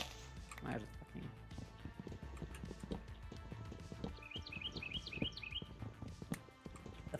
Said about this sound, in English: The fucking birds are so loud! Shut up, birds!